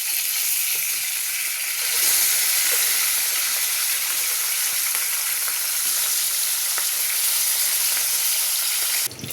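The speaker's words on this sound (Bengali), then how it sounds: "মাছগুলো ভাজা হয়ে গেছে, দেখুন সুন্দর ভাজা হয়ে গেছে মাছগুলো।" Fish frying in hot oil in a kadai gives a loud, steady, hissing sizzle that runs unbroken for about nine seconds and then stops abruptly, with no voices.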